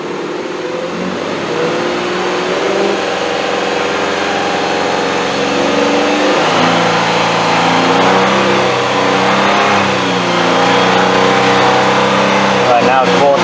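A car with a random misfire, power loss and a suspected clogged catalytic converter revs up toward 4,000 RPM, its loud engine tone climbing and holding with rough harmonics while someone talks over it.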